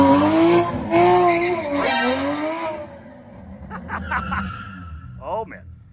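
A Porsche GT4 revs hard and breaks into a burnout, its tires squealing in a rising whine. Voices talk over the engine at first, and the shrill, wavering squeal lingers toward the end.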